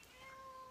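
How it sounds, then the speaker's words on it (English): A cat gives one short, quiet meow nearby, a brief rising tone heard alone. "and now there's Cat"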